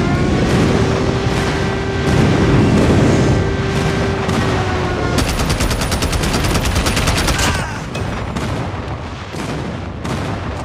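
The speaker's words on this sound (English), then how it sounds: "Friendly airstrike incoming." Loud, dense gunfire and booming blasts in a Call of Duty Mobile ranked Domination match, with a friendly airstrike pounding down amid continuous rapid shooting and heavy explosions throughout.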